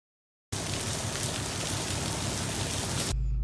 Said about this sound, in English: Too much rain, too much traffic.